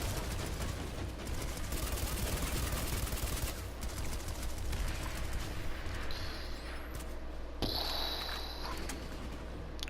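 Jackal SMG gunfire in a video game, rapid bursts of automatic shots crackling steadily and loudly over dense battle noise, with a few sharper reports standing out near the end.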